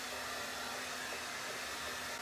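A hair dryer runs in a steady, unbroken whoosh as it dries freshly stencilled paint on a wall, a faint continuous hum throughout with no voices.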